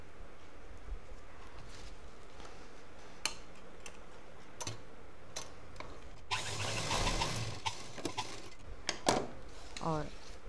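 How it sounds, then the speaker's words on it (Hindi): A sewing machine double-stitches a belt and buckle onto a handmade side purse, giving quiet mechanical ticks and a brief faster whirring run, with scattered clicks in a hushed room. "डबल सिलाई कर देंगे।"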